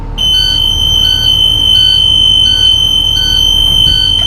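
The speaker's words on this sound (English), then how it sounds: "buzzer sounds." A school bus emergency exit door buzzer sounds a loud, continuous shrill tone with a steady pulsing beep layered on top, heard close and alone against a low engine rumble.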